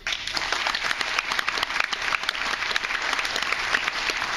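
A large audience gives a sustained round of applause for event sponsors, with dense, even clapping throughout and no talk over it.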